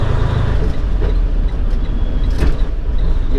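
A truck engine drones loudly from inside the cab as a driving student shifts gears, the steady road rumble broken by a few brief knocks and shifts, with no talking.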